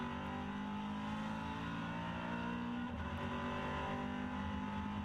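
Onboard a Maserati Trofeo race car at the Red Bull Ring, the engine drones steadily with a layered, harmonic hum, dipping briefly near the middle as the car shifts or lifts, then pulling on at a constant level.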